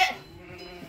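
A young lamb and ewes bleat at a sheepfold, with one close bleat at the start fading into quieter murmuring and faint farmyard sounds.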